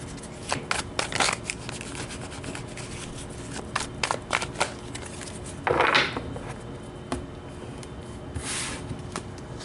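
Tarot cards being shuffled by hand, a series of quick riffling bursts and soft slides, close by with short pauses between.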